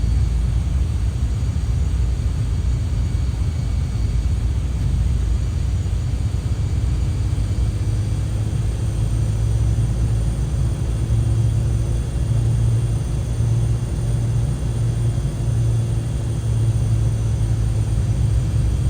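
A steady, loud aircraft engine drone in a flight simulator game, with a deep rumbling hum that holds constant throughout, no voices over it.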